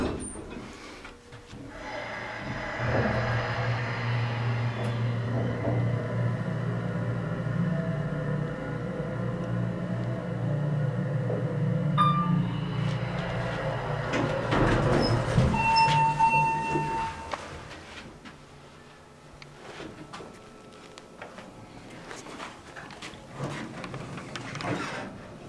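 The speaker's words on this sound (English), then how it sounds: "here's the older elevator, the Otis Series 1 at the Chartwell Shopping Center in Scarborough, Ontario" An older Otis Series 1 hydraulic elevator at a Scarborough, Ontario shopping centre runs with a steady low mechanical hum and rumble, close by and fairly loud, rising mid-ride with some rattling before easing off near the end.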